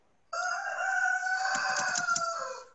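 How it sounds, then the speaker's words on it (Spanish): A rooster crows once in a long, loud, sustained call, close by and with no speech. "tengo un gallo que es muy chilloso"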